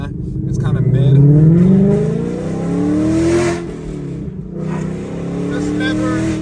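Ford Mustang Dark Horse engine revving and droning close inside the cabin, rising and falling through gear changes, with a voice talking over it.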